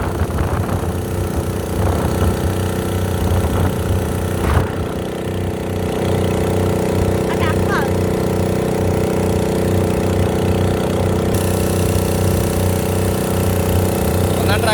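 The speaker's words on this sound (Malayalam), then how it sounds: "ഇതാണ് ഞങ്ങളുടെ ബോട്ട്. കടലിൽ പോകുന്ന മീൻ പിടിക്കാൻ പുറംകടലിൽ പോകുന്ന വള്ളമാണ്." A sea-going fishing boat's engine roars continuously and loudly, a steady droning hum with strong low harmonics, racing alongside another boat, with a few sharp knocks along the way.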